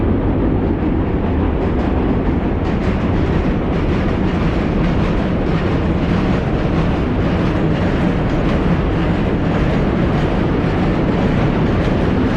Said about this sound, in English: now there's a subway, so it may be hard to hear me